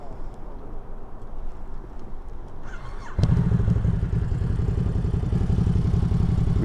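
Motorcycle fitted with a freshly replaced part rides through city streets from Williamsburg toward Long Island City, a steady engine drone that jumps louder and rougher midway as the throttle opens, with no talk.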